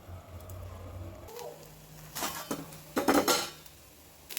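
Metal clatters against a kadai pan in a kitchen while handvo cooks: a soft scrape, then several sharp clinks and rattles as a lid is set in place, close and fairly quiet.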